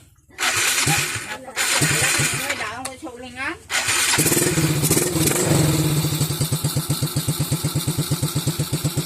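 A motorcycle engine cranks on its electric starter after a wiring and engine restoration, then catches and settles into a loud, steady, rapid idle close by, with a person speaking briefly at the start.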